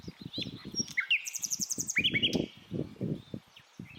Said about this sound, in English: the birds flew around it for a little while, and it began to sing a beautiful,